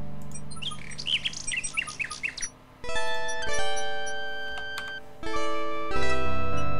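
Cartoonish bird chirps and squawks from King's Quest VI, a quick run of calls early on, then game music and chimes take over.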